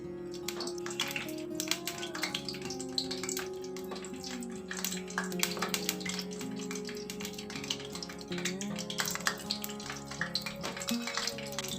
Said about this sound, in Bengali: প্রত্যেকটা লঙ্কা বেসনে চুবিয়ে ভেজে তুলছি।